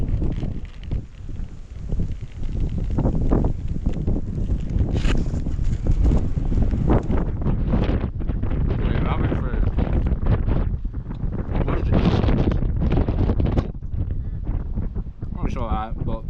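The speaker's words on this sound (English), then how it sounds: "Man, it's so windy." Strong gusty wind buffets the microphone with a loud, constant rumble as someone talks over it while cycling in Australia.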